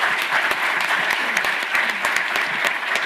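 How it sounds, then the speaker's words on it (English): An audience at a water forum gives a round of applause for its opening panel, dense, sustained clapping from a full room, loud and even throughout. "what's next is a round of applause for our opening panel"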